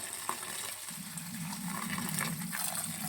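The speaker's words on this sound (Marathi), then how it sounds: "तर धुवून घेते मी भाजी धुवून ही घेतली मस्तपैकी" Leafy vegetables washed in water, with a steady gushing, splashing pour of water that grows slightly louder, close by and with no talk.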